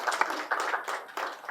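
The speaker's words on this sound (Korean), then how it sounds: "박수 한번 부탁드립니다." Audience clapping at a Haiphong, Vietnam real estate investment seminar, a short burst of scattered, uneven handclaps from a moderate-sized crowd indoors, with a faint voice mixed in.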